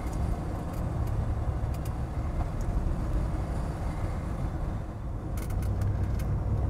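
Mercedes-Benz 500E classic sedan on a test drive, a steady broadband engine and road roar heard from inside the car, continuous and fairly loud with no talking.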